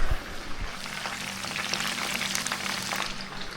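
Chicken pieces frying in hot oil for breakfast, a steady close crackling sizzle with scattered pops and spits throughout, no voices.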